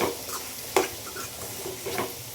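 Tomato chutney fries in a pan while being stirred, with a soft continuous sizzle and a few light scraping and tapping strokes of a spoon against the pan.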